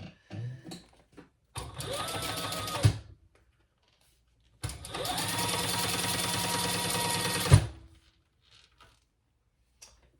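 A sewing machine stitches a train case in two sustained whirring runs of a few seconds each, close and mechanical, separated by pauses with small handling clicks.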